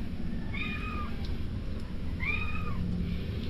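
A cat meows twice, a clear mid-length call then another a second later, over a low steady background rumble.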